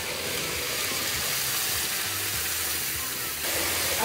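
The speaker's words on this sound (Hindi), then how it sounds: "अब मैं इसमें प्याज डालने वाली हूँ." Onions hitting hot oil in a pan while cooking Jammu-style rajma, a steady loud sizzle and hiss that swells slightly near the end.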